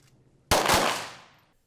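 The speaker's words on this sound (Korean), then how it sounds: "우렁찬 총소리와 함께 25m 떨어진 관역을 정확히 맞춥니다" A single loud gunshot fired at a 25 m shooting range, a sharp close crack followed by a long echoing decay, heard alone.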